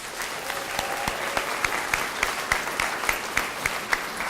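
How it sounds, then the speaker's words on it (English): An audience at a school assembly on a dads-take-your-child-to-school day applauds fathers, with steady clapping and a few louder individual claps standing out close by. "So if you can help me give them a big round of applause."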